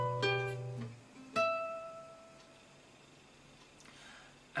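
A guitar plays a sixth chord in a beginner lesson, with a couple of plucked strikes ringing out and decaying slowly, then a faint tail and a soft late pluck, no talking.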